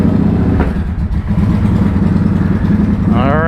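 A vehicle engine runs at fast idle, a loud, steady, close rumble that holds at an even level throughout with no clear revving.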